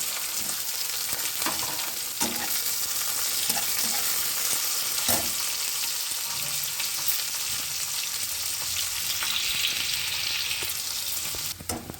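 Onion sizzles in hot white oil in a pan, a steady, close frying hiss that runs unbroken for the whole stretch, with a few faint clicks of stirring and no talking.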